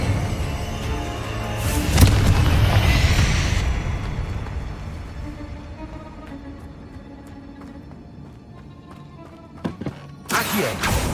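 Confringo blasting spell in a video game: a booming burst of fire near the start swells and rumbles for a couple of seconds, then fades into ambient tomb rumble before a second sharp crack near the end.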